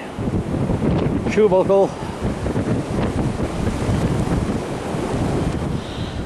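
Strong wind buffets an outdoor microphone on a UK metal detecting outing, a steady loud roar throughout, with a brief spoken remark near the start.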